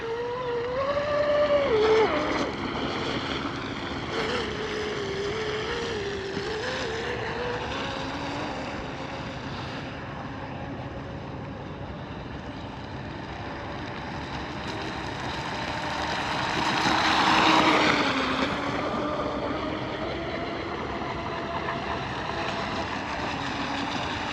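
A small electric motor in a vintage nitro RC boat converted to electric, running on a 3S battery, whines steadily over water, its pitch rising and falling with throttle changes and swelling louder for a moment before easing back.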